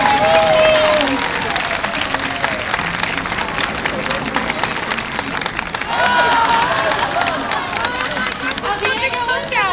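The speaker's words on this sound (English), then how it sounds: "And once again, applause." A crowd at a sea lion show at Hersheypark gives loud, dense applause that runs the whole length, with cheers and a voice carrying over the clapping.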